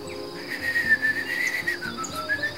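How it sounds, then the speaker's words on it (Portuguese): Birds sing outdoors in a steady, faint chorus of thin whistling calls, with soft insect-like chirping underneath and no talk. "podemos sair e ouvir o belo cantar dos pássaros"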